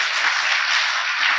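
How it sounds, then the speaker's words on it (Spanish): Church congregation applause, a brief steady burst of many hands clapping together, fairly loud and even throughout with no voices on top. "Dele un aplauso a Dios."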